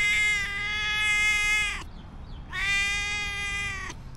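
A cat gives two long, loud, drawn-out meows close by, separated by a brief quiet pause, with no talking.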